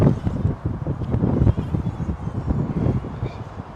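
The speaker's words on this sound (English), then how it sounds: "It is pretty windy out here." Strong wind gusts buffet a microphone outdoors on a grassy property, a continuous low rumbling roar that swells and dips without pause.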